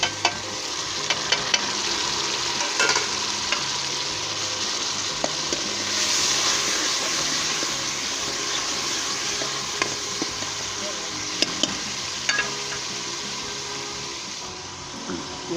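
Onion, tomato, ginger and garlic frying in a pan for a black chickpea curry, with a steady sizzle and repeated stirring scrapes running throughout, loud and close, no talking.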